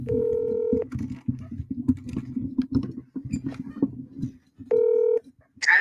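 Phone keypad tones dial out to place a call, in two short bursts at the start and near the end, separated by a stretch of clattery, talk-like background activity.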